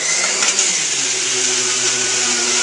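A Breville juicer whirs steadily as celery is fed through it, a loud, continuous motor drone with a constant whine that holds unchanged from start to finish, close by and with no talking.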